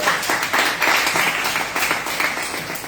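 A church congregation applauding together during a sermon, a loud dense wash of many hands clapping nearby, steady for the whole stretch with no voices standing out.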